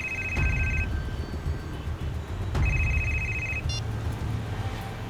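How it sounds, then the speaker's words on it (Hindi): A telephone rings twice in a moving tempo, each ring a bright repeated electronic trill with a gap between, loud over a steady low engine rumble. "इसी वक्त एक फोन आना था"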